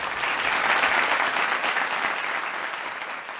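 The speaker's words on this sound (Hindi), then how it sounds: "प्लीज जोरदार तालियों से खुशामदीद कीजिए" An audience at a gala dinner applauds in a steady, full wash of clapping that fades slightly toward the end, with no voices.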